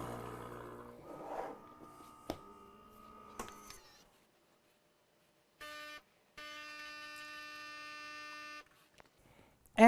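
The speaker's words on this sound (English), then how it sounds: "When we press brew, we'll get our shot of espresso." Gaggia Cadorna espresso machine brewing a shot from preground coffee, a steady pump buzz in two bursts, a short one then a longer few-second run, after some faint clicks and handling.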